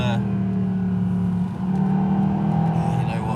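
A Mercedes SLS AMG engine hums steadily on a racetrack at a fairly even pitch, with a brief dip in the middle, while someone talks over it.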